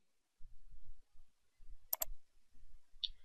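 Two crisp, quick computer mouse clicks close together, a faint third click a moment later, heard over a quiet low hum while confirming a credit card payment in hotel check-in software.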